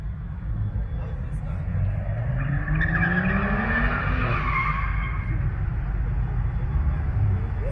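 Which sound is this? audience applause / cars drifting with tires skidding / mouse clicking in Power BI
cars drifting with tires skidding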